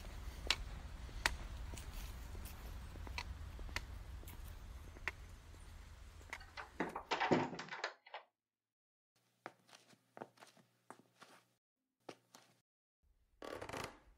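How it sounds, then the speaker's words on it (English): A house door pushed shut in a quiet home at night, landing as a single firm knock amid creaks and handling sounds, followed by soft footsteps and small clicks in near silence. "Quickly, come inside and then close the door behind me."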